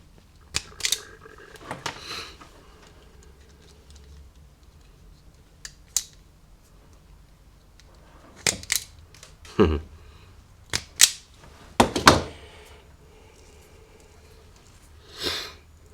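Wires cut and insulation stripped while hooking up a Chinese diesel heater, scattered sharp snips and clicks in irregular clusters with quiet pauses between, close and fairly crisp.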